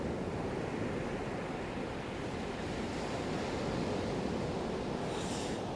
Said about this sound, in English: Southwold Beach